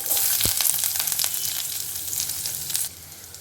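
Onion, garlic, cumin and curry leaves fry in hot oil with a bright steady sizzle and crackle, a few sharp pops near the start, the sizzle dropping quieter at the end.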